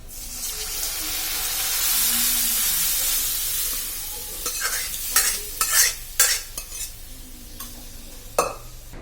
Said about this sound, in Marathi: आता आपण ह्या ज्या भाज्या शिजवून घेतलेल्या आहे कुकरमध्ये त्या याच्यात टाकून घेणार आहोत